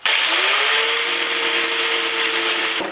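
A power tool with an abrasive cutting disc saws through a metal car muffler in a workshop, producing a steady, loud, harsh grinding whine with a sustained tone that runs continuously for about three seconds before abruptly cutting off.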